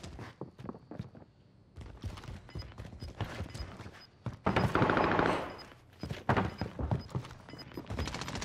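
STEN submachine gun firing in Call of Duty on Rebirth Island, heard as bursts of rapid gunfire. The bursts are moderately loud and come at irregular intervals, with a dense sustained burst near the middle, mixed with footsteps and game effects.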